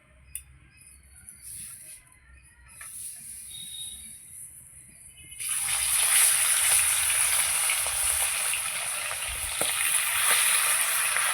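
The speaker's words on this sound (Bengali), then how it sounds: "তেলটা গরম হোক, তারপরে মাছগুলো আমি ভেজে নেব" Khoira hilsa fish frying in hot oil: after a quiet stretch with faint pan noise, a loud, close sizzle erupts as the fish goes in and hisses steadily to the end.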